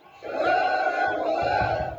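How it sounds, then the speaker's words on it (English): A protest crowd in Kazakhstan chants against the country's former leader, a dense mass of voices rising together and holding loud and steady throughout, rumbling and rhythmic. "Old man leave, they chant."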